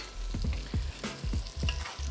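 Sliced onions sizzle in a hot pan while being stirred, with a steady frying hiss broken by rhythmic scraping strokes of a utensil, close and fairly quiet.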